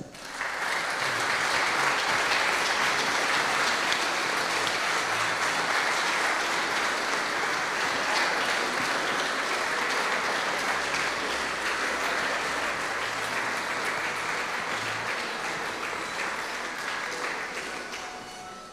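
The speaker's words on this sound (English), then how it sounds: "please welcome onto court a big round of applause" Spectators at a squash open final clap in long, steady applause from an indoor crowd, dense and even for most of the stretch before easing slightly toward the end.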